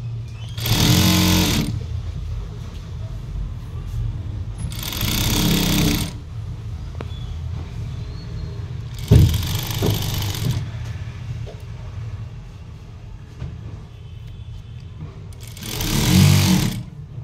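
A sewing machine stitches fabric in four separate bursts of fast, even whirring, each a second or two long with quieter pauses between, close and fairly loud.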